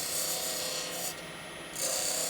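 A lathe gouge cuts a wooden bead with the bevel rubbing, giving a close, steady scraping hiss that dips briefly midway and then resumes.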